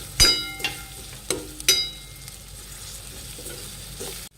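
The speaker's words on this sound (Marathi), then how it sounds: "आता आपण लसूण अद्रक कुटून घेतलेले ते टाकूया त्याला एक दोन मिनिट हलवूया" Crushed garlic and ginger stirred into onions frying in a pan for street-style pav bhaji, with a few sharp scraping stirs over a soft, steady sizzle, close and fairly loud.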